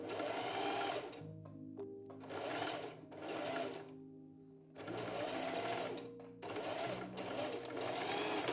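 A sewing machine stitches a gathered sleeve in several rapid mechanical bursts, separated by short pauses, close and fairly loud.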